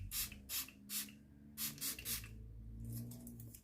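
Hand spray bottle spraying in quick bursts, seven short hissing squirts spaced unevenly, close and fairly loud over a low background hum, with no talking.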